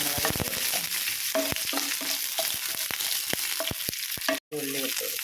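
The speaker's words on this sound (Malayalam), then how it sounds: "ഈ വെളുത്തുള്ളി ഇട്ട് കുറച്ച് സമയം വഴറ്റുക." Garlic and green chillies sautéing in hot oil, a continuous close sizzle broken by sharp ladle taps and scrapes against the pan, with a brief dropout near the end.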